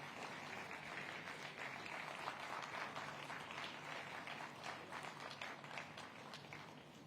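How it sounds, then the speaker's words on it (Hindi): Audience at a Surat police award ceremony applauding, a continuous faint patter of many hands clapping in a hall, steady throughout with a soft voice faintly underneath. "आपकी तालियां बजती रहनी चाहिए"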